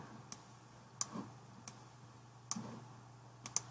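Computer mouse clicks while importing an STL occlusion scan model in BSP software: five sharp, isolated clicks spaced unevenly over a few seconds, close and quiet against a low steady hum.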